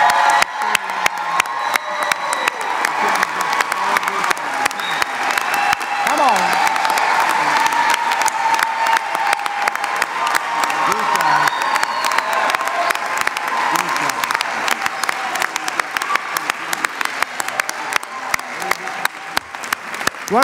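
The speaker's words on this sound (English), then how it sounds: "One more big cheer for this class." A crowd at a 2017 university graduation ceremony applauds and cheers the graduates, sustained dense clapping with scattered whoops and shouts, loud and continuous throughout.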